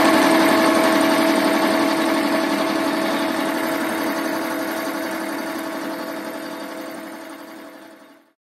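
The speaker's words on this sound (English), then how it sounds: "So now we're just face milling." A milling machine face mills a Honda XL350R motorcycle intake manifold, giving a steady droning whine with a constant tonal hum that slowly winds down and stops near the end.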